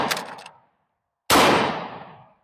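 Two loud blasts from a pump shotgun fitted with a red dot sight shooting number 8 shot outdoors, a sharp boom fading at the start, then a second close report with a long decaying echo.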